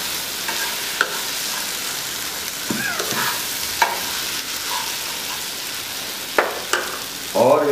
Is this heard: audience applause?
no